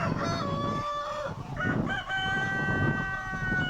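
Chickens cluck and a rooster crows nearby, several birds calling over one another against a steady farmyard background.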